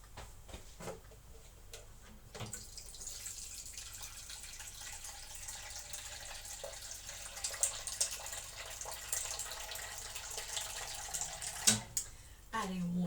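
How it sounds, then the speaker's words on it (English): Water pours from a kitchen water filter in a steady, hissing stream that runs for several seconds, with light clatter near the end. "Adding water."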